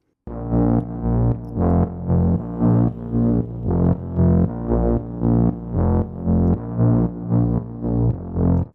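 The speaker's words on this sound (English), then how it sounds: "you can hear it ducks out when the kick plays" A repetitive electronic music groove where a thick synth bass ducks in volume on each kick drum hit, creating a steady rhythmic pumping throughout.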